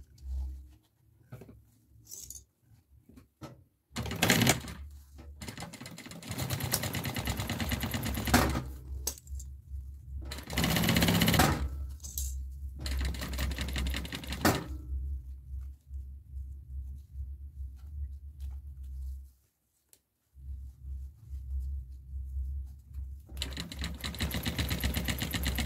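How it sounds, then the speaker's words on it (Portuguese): A sewing machine stitches a zipper onto a fabric necessaire in several short and long whirring bursts separated by quiet pauses and small handling clicks, close and fairly soft. "E vou costurar aqui."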